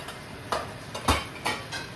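Urad dal, cumin and mustard seeds tempering in hot oil, a soft sizzle under a few distinct clicks and taps of a spoon against the pan.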